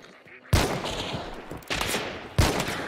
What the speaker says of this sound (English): Oh, there's a guy shooting at me.